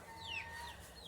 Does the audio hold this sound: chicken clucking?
yes